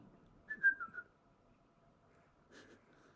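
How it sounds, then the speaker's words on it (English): A person whistles two short, soft phrases, a quick wavering run of notes followed after a pause by a briefer one, against quiet room noise. "You know it's bad when the boy starts whistling."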